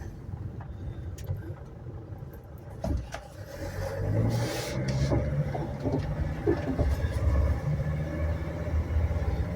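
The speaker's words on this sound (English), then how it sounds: "Just take it quickly around the block. Shifts like it should." A 2005 Dodge Sprinter camper van being driven around the block, its engine droning low and steady from inside the cabin. The engine note rises partway through as the van accelerates, with faint clicks and rattles and some quiet talking.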